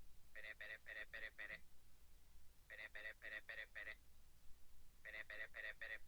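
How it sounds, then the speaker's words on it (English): A phone rings over a call connection in three bursts of rapid trilling pulses separated by short pauses, faint and thin above a low background hum. "sounds like his phone is ringing"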